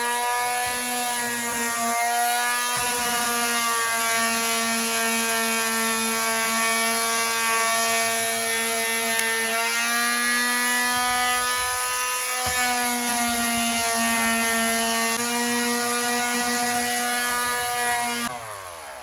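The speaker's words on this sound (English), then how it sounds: "the first phase is sanding it" A loud, continuous power-tool whine with a steady hum, an electric sander running on a wooden whiskey barrel, briefly dipping in pitch a few times.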